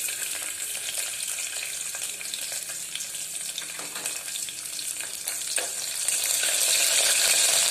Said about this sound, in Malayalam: എണ്ണ ഒന്ന് ചൂടായതിന് ശേഷം നമുക്ക് അതിലേക്ക് എടുത്തു വച്ചിരിക്കുന്ന വെളുത്തുള്ളി ഇട്ട് കൊടുക്കാം